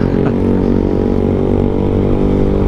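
An old Honda CBR motorcycle idles close by, its engine putting out a loud, steady throbbing rumble with a dense low drone that holds even throughout, with no voices.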